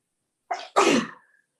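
One sharp, close sneeze: a short intake followed by a loud explosive burst, surrounded by silence.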